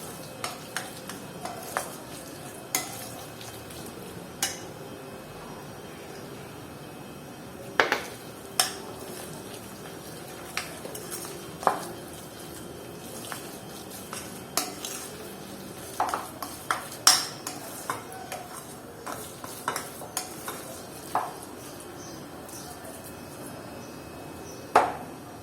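Sardine paste with rice is worked together with flour by hand in a bowl, giving soft rubbing and squishing with scattered sharp clicks and knocks against the bowl. There is no talk.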